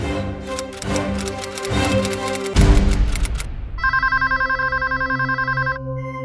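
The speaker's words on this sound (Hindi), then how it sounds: "अरे जरा सुनो, फोन बज रहा है कब से।" An electronic telephone rings in a steady repeating trill, loud and close, following a stretch of dramatic music with rhythmic hits.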